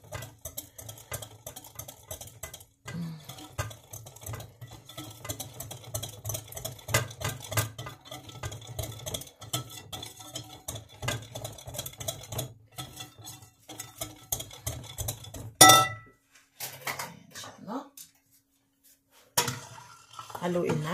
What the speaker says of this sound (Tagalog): Haluin natin ang ating milk dito para hindi siya masunog, no?